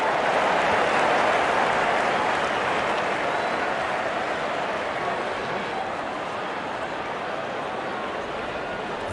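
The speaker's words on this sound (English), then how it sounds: "The crowd is enjoying every bit of this action." Loud, steady roar of a cricket crowd cheering and clapping in a video game match, India versus New Zealand, a dense wash of applause filling the whole stretch and easing off slightly toward the end.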